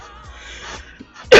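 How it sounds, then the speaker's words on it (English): One sharp cough bursts out loud at the end after a few seconds of quiet breathing and faint background murmur. "I've been coughing."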